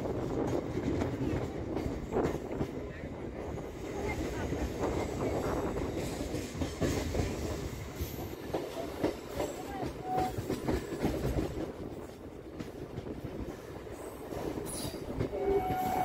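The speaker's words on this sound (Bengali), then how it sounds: "আমাদের ট্রেনটা মেন লাইন ছেড়ে লুপ লাইনে ঢুকছে।" A Tarakeswar-Goghat local passenger train rolls from the main line onto a loop line, with a steady loud rumble of wheels on rail, scattered clacks and squeals over points, and brief low voices in the carriage.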